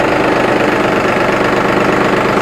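Turbocharged three-cylinder 2931 cc, 65 hp vehicle engine running close by, a loud, steady, rough idle with continuous knocking throb throughout.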